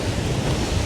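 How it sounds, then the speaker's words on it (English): Sea waves break on the shore at Groudle Glen on the Isle of Man, a brief, dense roar of surf mixed with wind buffeting the microphone, close and steady. "we had quite a dramatic set of waves just now. It was crash after crash after crash"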